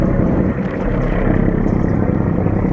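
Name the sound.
engine noise of the Tipu 12 river launch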